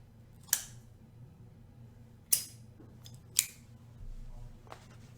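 Three crisp, sharp snips from a guillotine cigar cutter trimming the cap of a cigar, spaced a second or two apart and close up in an otherwise quiet room.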